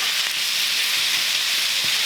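Turkey meat with onion and pepper sears in a pan on high heat, a loud steady hiss with no pauses, close by.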